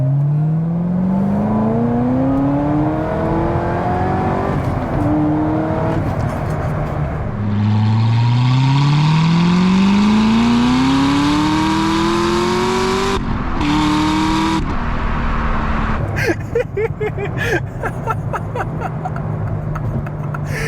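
A Chevrolet Corvette C7 ZR1 pulls hard in second gear, its supercharged V8 rising steadily in pitch through long loud revs, then shifting up with brief breaks and crackling pops as it keeps accelerating.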